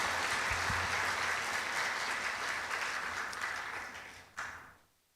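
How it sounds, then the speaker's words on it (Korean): Applause from a church congregation fills the room with steady, dense clapping that thins out and fades away over a few seconds. "우리 귀한 청년부에게 박수 한번 격려의 박수 드리겠습니다."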